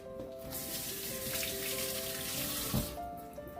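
Pickled vegetables being washed in a sink under running water, a steady close splashing and rushing tap flow with a small clunk near the end and no talk.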